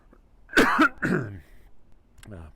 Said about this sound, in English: Pardon the cough, folks.